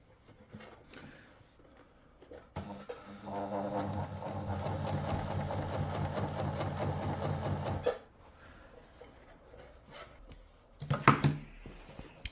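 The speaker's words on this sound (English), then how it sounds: "I've now sewn it in with the sewing machine." A sewing machine stitching a felt hat brim runs in one steady burst of several seconds, a fast even mechanical whir, with quieter handling and clicks before and after.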